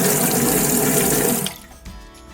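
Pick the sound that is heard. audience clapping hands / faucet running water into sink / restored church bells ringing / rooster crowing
faucet running water into sink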